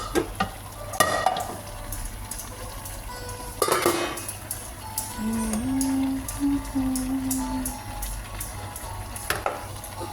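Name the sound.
stir-frying mushrooms and vegetables in a pan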